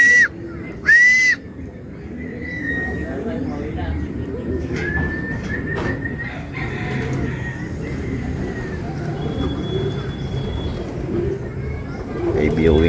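Racing pigeons return to an outdoor loft after a long race, with scattered cooing and whistling bird calls over a steady ambient wash, faint voices and a passing car in the background.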